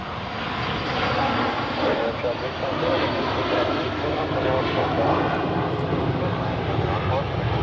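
An airplane takes off on runway 28 at Zurich Airport, its engines a loud, broad roar that holds steady throughout, with radio talk mixed in.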